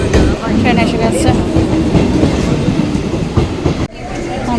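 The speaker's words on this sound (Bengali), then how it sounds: "ট্রেন এসে গেছে।" A passenger train rolls into a station platform on a hot day, loud and close, with a heavy rumble and rhythmic clickety-clack of wheels over rail joints that ends in an abrupt drop.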